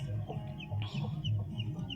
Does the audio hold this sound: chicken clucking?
yes